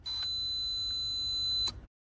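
A single sustained high-pitched electronic beep from an electrical tester checking a Porsche GT3 RS, lasting over a second, clear and close, ending abruptly.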